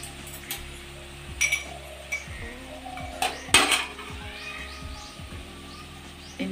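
Cauliflower curry is stirred in a metal pan with a spoon, giving scattered clinks and scrapes against the pan, one brighter knock near the middle, under a faint background hum.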